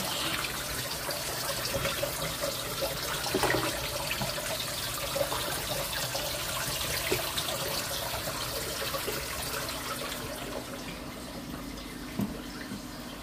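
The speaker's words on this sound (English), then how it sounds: "Using a tube to clean out the dirty water." Dirty water drains out of a turtle tank through a tube during cleaning, a steady, continuous rushing and trickling flow that stays fairly loud and even throughout, with no voices.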